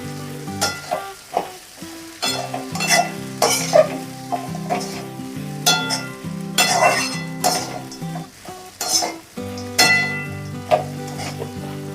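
Poha is sautéed in a pan for a Marathi-style breakfast, with rhythmic spatula scrapes and clinks against the metal over a soft sizzle, loud and close, stroke after stroke.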